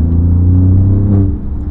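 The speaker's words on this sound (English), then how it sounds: "To get the full sound, so the exhaust is open all the time, you need to put it in race mode like this." Alfa Romeo Giulia Quadrifoglio idling with its exhaust held open in race mode, a deep, loud, steady throbbing rumble close to the car that eases slightly near the end.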